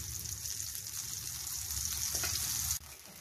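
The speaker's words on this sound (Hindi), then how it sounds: "बस इसको मैं भून रही हूँ ताकि दाल का कच्चापन खत्म हो जाए" Chana dal roasting in a pan crackles in a steady, fairly quiet sizzle, with light stirring throughout, then cuts off abruptly near the end.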